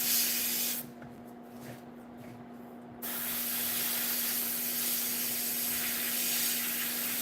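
An airbrush spraying paint onto a model tank, a steady airy hiss running through most of the stretch, dropping away briefly near the start before resuming at full strength.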